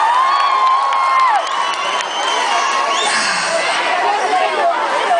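A dense concert crowd at a show in São Paulo cheers and screams for security staff, loud and sustained with overlapping whoops and high shouts throughout.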